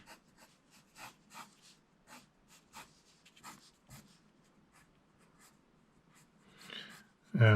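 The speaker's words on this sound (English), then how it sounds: "This is a slightly darker blue pencil I'm using." A dark blue pencil draws a cartoon figure on paper, giving faint, soft scratchy strokes in uneven bursts, followed by a sudden louder thump at the very end.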